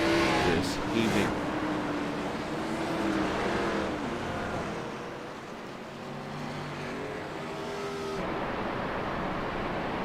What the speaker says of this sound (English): You hear cars already saving fuel here a little bit as they roll their way up here.